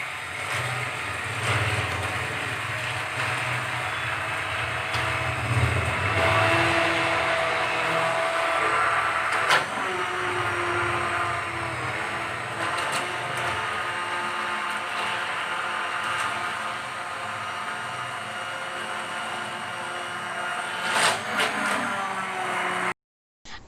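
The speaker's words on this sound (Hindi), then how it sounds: "मैं इसको यहाँ ब्लेंडर से तैयार कर रही हूँ, लस्सी बना रही हूँ, इसकी मक्खन निकाल रही हूँ।" A kitchen blender runs continuously, churning set yogurt into lassi and separating out butter, a steady loud motor drone with a broad whirring roar and no talk over it.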